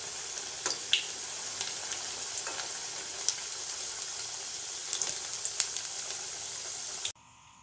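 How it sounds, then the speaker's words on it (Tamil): Vegetable kachoris deep frying in oil, a constant dense hiss with occasional small pops, close and even throughout, cutting off abruptly at the end. "அவ்வளோ கச்சோரியும் இதில் எந்த எண்ணெயில் போட்டு நம்ம பொரித்து எடுத்துக்கலாம்."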